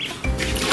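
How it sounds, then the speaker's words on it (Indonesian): Water is poured into a bucket prepared for a duckling: a short, close splashing gush that starts abruptly and runs on for under a second. "Airnya akan saya tambah."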